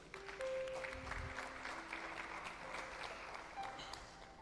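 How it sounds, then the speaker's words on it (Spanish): Church congregation claps in praise to God during a Spanish-language sermon, a faint, steady spread of applause from a room of people with brief sustained musical tones ringing underneath. "Dale un aplauso a Dios."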